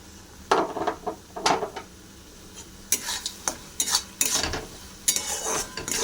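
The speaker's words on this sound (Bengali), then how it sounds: "সুজি ভালো করে নাড়তে থাকবো।" Sweet semolina (suji) cooked with ghee is stirred in a pan with a spoon. Repeated scraping strokes come up close in an uneven rhythm, with faint sizzling between them and no talking.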